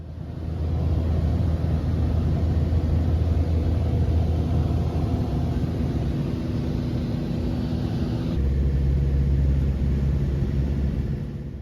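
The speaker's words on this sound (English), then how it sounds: "We're landing here in Lake Simcoe." A small airplane comes in to land on Lake Simcoe, its engine giving a loud, steady droning rumble that shifts slightly in tone near the end, with no talking.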